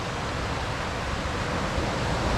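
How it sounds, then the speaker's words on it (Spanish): Heavy, rough surf pounds a beach in Huatulco, Mexico, filling the air with a loud, dense, unbroken roar of crashing water and wind close by. "Está súper fuerte el oleaje, ¿eh? Nunca había visto el oleaje tan fuerte."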